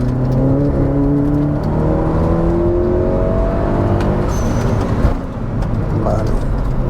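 A Golf GTI engine swapped into a VW Caddy, around 360 hp, drones steadily while driving on a track, its pitch rising and shifting as it accelerates, loud and close with road and wind noise throughout.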